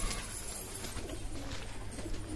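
Pigeons kept in a loft, including a large hen held indoors, coo in a low, steady murmur that runs the whole moment at moderate loudness with no voices over it.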